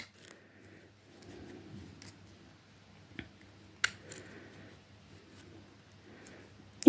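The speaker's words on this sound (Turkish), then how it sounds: "Zincirin bir halkasını geçiriyorum ve küçük halkamızı kapatıyoruz şöyle pense yardımıyla." Pliers close a small metal jump ring on a handmade biscuit-shaped keychain. Quiet, scattered clicks and soft metallic scrapes come close up, with a couple of sharper snaps near the middle and the end.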